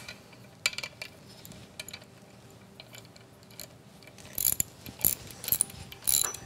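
A hand ratchet clicks in short bursts, snugging the bolts of a clutch pressure plate in a star pattern, with soft mechanical rattles at first and louder, quicker ratcheting toward the end.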